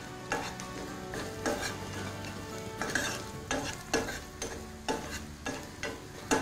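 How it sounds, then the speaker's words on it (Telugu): Onions fry in a pan with green chilli and turmeric, a steady close sizzle broken by repeated scraping strokes as a spoon stirs them, with no voices. "ఆనియన్స్ కూడా మంచిగా ఫ్రై అయినాయి."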